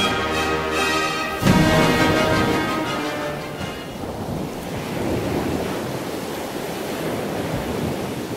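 Surf washes onto the beach at Agawa Bay in a continuous broad rush, with a louder breaking swell early on and wind buffeting the microphone, no voices heard.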